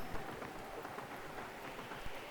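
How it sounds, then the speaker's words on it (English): Steady rain in the Fallout 4 video game, a dense even hiss of drops with faint low rumbles, quiet and continuous with no talking. "it does start to rain as I was filming that here"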